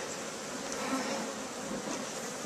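Honeybees buzz around an opened beehive as a heavy honey-filled hive box is lifted off, a dense, continuous, close-up hum of many insects with no speech.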